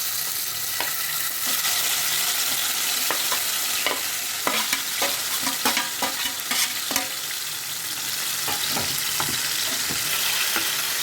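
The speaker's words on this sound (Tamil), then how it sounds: "இப்போ இதில் வந்து நம்ம இந்த இந்த மேரினேட் பண்ண சிக்கனை அப்படியே சேர்த்து விட்றோம்" Marinated chicken sizzles in a hot pan, a steady bright frying hiss broken by rapid crackles and sharp spatter pops, close and loud, with clinks of stirring and no voices.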